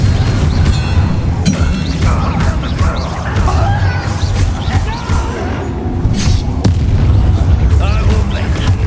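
Loud spell-casting combat in a Harry Potter video game, with a disarming charm among the effects: repeated booming bursts and crashes over several seconds, layered with shouting voices and game noise.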